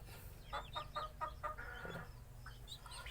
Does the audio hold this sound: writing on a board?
no